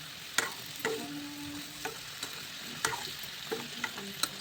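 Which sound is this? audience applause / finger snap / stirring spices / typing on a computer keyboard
stirring spices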